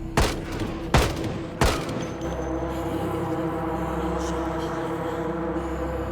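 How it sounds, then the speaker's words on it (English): Rifle gunfire in the zombie survival game Project Zomboid: three loud, sharp shots about two-thirds of a second apart, followed by a steady low ambient hum. "he immediately aimed his rifle"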